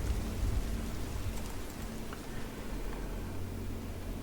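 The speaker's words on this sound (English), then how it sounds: "All the rain is really making it just that much more atmospheric" Steady rain falling as a weather effect in Old School RuneScape, a constant soft hiss with faint low rumble, no voices, continuing evenly throughout.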